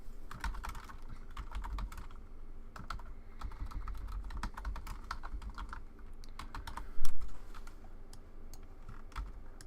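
Fingers type text on a computer keyboard in a steady stream of close, crisp key clicks with brief pauses and one louder stroke near the end.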